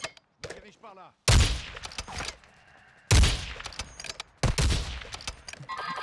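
Gunfire in Warzone 2 comes in several loud, sharp bursts of rapid shots with cracking impacts, separated by short pauses, while a player speaks briefly between volleys.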